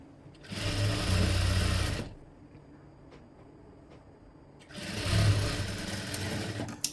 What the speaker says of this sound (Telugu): నేను ఇలా స్టిచ్ అయితే వేసేస్తున్నాను